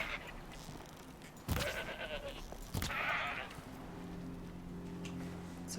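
A goat in the Horizon Zero Dawn video game lets out two short bleats over faint ambient game sound and a low hum.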